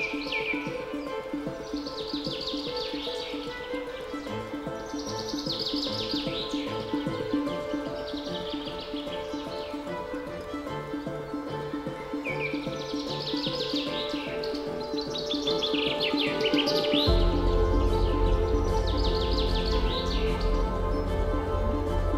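Migratory Siberian birds chirp and tweet in repeated bright calls at a lake at Katarniya Ghat, Uttar Pradesh, over a steady musical background, with a low rumble rising near the end.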